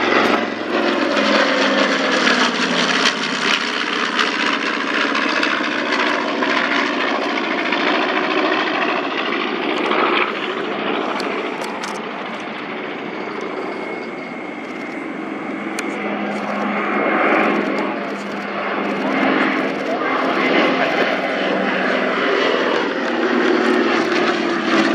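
A WWII-era propeller airplane takes off at an airshow, a loud broadband engine roar with droning propeller tones that swells, dips slightly, then surges again while passing at a distance.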